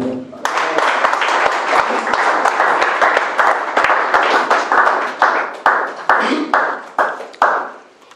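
A church congregation breaks into sustained applause, a dense wash of clapping that carries on for several seconds with sharp individual claps and some voices mixed in, then thins into scattered bursts toward the end.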